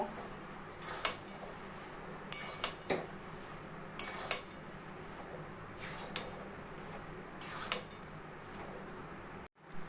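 A metal spoon clinks and scrapes against a pan while stirring ghee and garam masala into cooked vegetarian cabbage, with about eight separate clinks and scrapes over a quiet kitchen background.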